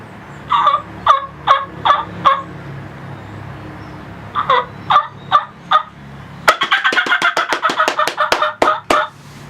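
A hunter's turkey call imitates a hen's fly-down cackle: scattered clucks, then a fast, loud run of sharp cackling notes, with hands slapping a thigh to mimic beating wings.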